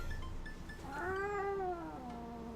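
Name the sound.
cat meowing in the video game Dream Daddy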